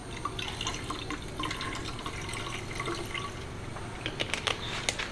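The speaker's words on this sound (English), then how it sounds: "I'm going to top up with the distilled water the rest of the way." Distilled water pours and trickles into a car's coolant reservoir in an uneven stream, with light splashy drips growing sharper toward the end; no talking.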